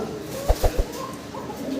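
Fancy pigeons of mixed local and foreign breeds cooing in a cage collection, three short soft coos in a row around the middle against a quiet background.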